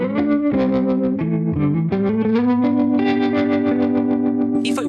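An electric guitar runs through a switched-on UAFX pedal, giving a warm, vintage-style tone as sustained notes and chords ring out loud and full, with a brief bright flourish at the end.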